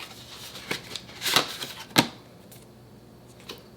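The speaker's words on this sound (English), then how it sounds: "Let's take a look at what's in the envelope." A paper envelope is opened while unboxing an X-Arm tablet stand: a few sharp crinkling rips and rustles, close and fairly quiet, with the loudest tears bunched near the middle, then soft paper handling.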